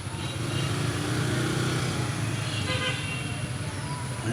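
Horn toots sound repeatedly on a busy street thick with motorbike and car traffic. The honks are close and fairly loud, and engine hum runs under them the whole time.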